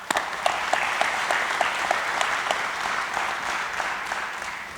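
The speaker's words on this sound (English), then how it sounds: "so please, everyone give the families an applause." A crowd applauds steadily at a police academy graduation, a dense wash of clapping holding at a constant level throughout, with a few sharper individual claps standing out.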